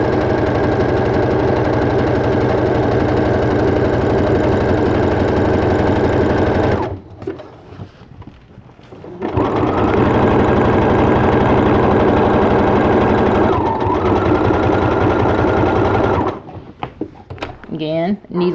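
A sewing machine stitches down an appliqué on a T-shirt in long, loud steady runs, stopping for a pause near the middle to pivot at a corner, then resuming; brief handling noises appear in the gaps.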